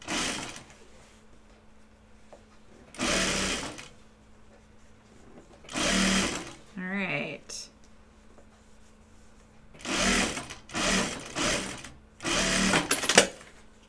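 Sewing machine stitching fabric in several separate short bursts of close mechanical whirring, with quiet gaps between runs.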